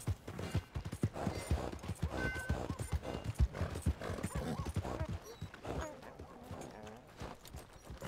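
Hooves clip-clop steadily as a horse moves in the Red Dead Redemption II video game, a close, rhythmic series of hoofbeats with occasional snorts and game sounds mixed in.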